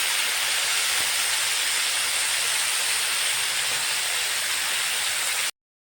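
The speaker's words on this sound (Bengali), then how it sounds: "দেখো, এবার ভালো করে নেড়ে নিতে হবে" Potatoes, cauliflower and tomato frying in a pan for Bengali masala aloo, a loud, even hiss and sizzle held steady throughout before cutting off abruptly.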